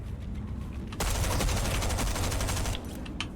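Gunfire in the Fortnite video game, a dense burst of rapid shots from about one second to nearly three seconds, loud and close over quieter game ambience, with a few sharper shots near the end.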